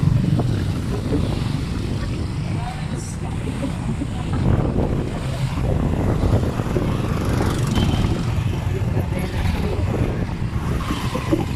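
A motorcycle-engine tricycle ride near Pasay Mall in Pasay: a steady, close engine rumble mixed with wind buffeting runs unbroken for the whole stretch, with no clear talk on top.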